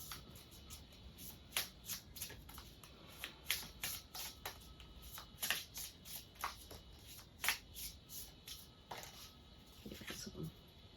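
Tarot cards are shuffled by hand in a steady run of crisp riffling flicks and soft slaps, close and fairly quiet, with faint background noise and no speech.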